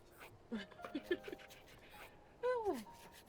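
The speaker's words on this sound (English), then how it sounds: "My puppy is trying to join us." A puppy pants close by in short breathy bursts, with a brief whimpering yip near the end, while game music and faint voices carry on in the background.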